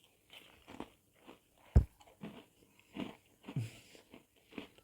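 Crunchy bites and chewing on a cookie at a hotel, close and fairly quiet, with one sharp crunch followed by a run of softer, irregular chews and small crackles.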